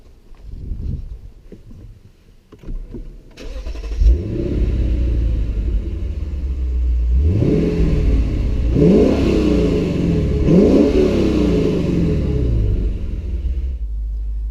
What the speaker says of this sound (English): Let's start it up and have a listen.